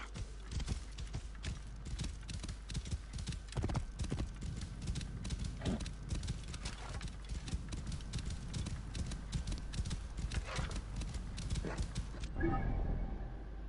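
Horse hooves clip-clopping at a steady gallop while riding in Assassin's Creed Origins, rhythmic and continuous under background game ambience, ending in a brief burst of other noise.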